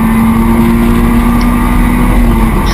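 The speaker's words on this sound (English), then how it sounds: "Up another gear for Mike Comber as he heads down towards Redgate then." Mazda MX5 race cars at Donington Park circuit during a BRSCC Autumn Challenge race heading toward Redgate, with a loud, steady engine drone holding a constant pitch throughout, no voices.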